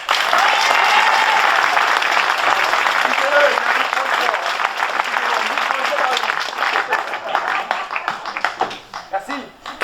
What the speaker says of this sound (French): Merci d'applaudir Geoffrey.